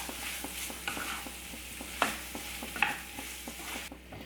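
Cauliflower masala gravy stirred in a pan: a steady run of soft scraping strokes with two sharper clinks of the spoon, over a low sizzle, close and fairly quiet, with no talking.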